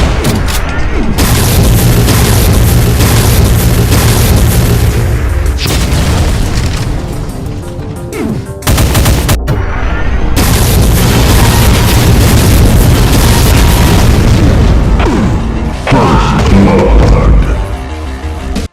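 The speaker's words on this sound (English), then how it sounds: "It can fire multiple area-damaging bombs" Area-damage bombs from a Doom mod weapon go off in loud, dense, booming explosions, one after another, with short gaps between the barrages.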